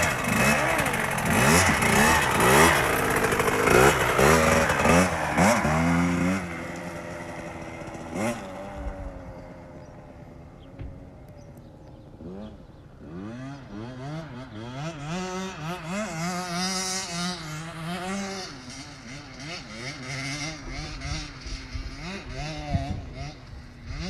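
Off-road vehicle engine running after a stall, a loud rough revving drone that rises and falls in pitch, strongest early then settling into a steadier idle with voices talking over it.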